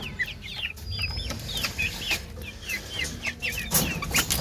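Hens and chicks clucking and peeping close by in a backyard coop, rapid repeated high chirps over a low scratchy background, no talk.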